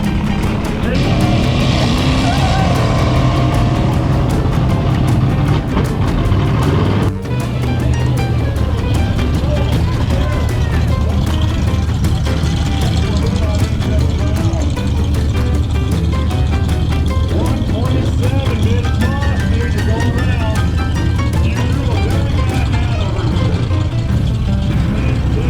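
Race cars competing at an RPM Nationals event, engines roaring loudly and continuously with shifting pitch as cars pass, crowd and announcer-like voices mixed under the dense engine noise.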